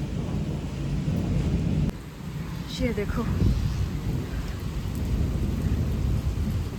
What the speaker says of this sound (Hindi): अभी भी मेघ राजा गरजने में ही है और बरसने में ही है